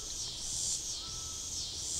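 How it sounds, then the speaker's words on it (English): Steady high insect-like buzzing around a weak, absconded double-deep honeybee hive outdoors, a faint continuous drone with a slight swell and fade, no voices. "And those bees there flying around don't look like they belong there."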